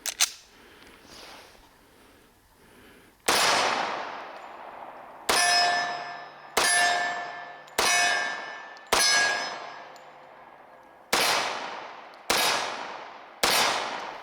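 A SIG Sauer P220 Legion .45 ACP pistol has its slide pulled back and released slingshot-style, giving about eight loud, close, sharp metallic clacks spaced roughly a second apart, each ringing briefly, with no talking.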